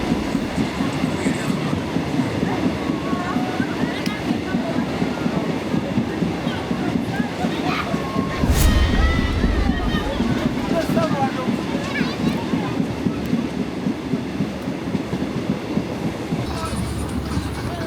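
A Uganda Railways train riding along its tracks: steady loud rumble with continuous clickety-clack of wheels over rail joints, heard from on board, with a heavier surge partway through.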